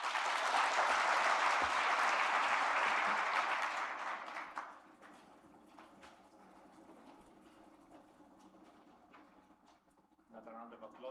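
Loud applause from the audience at the opening session of the 19th Ambassadors' Conference at the Safari Park Hotel in Nairobi, a dense roar of clapping that fades after about four seconds into quiet room noise and scattered claps.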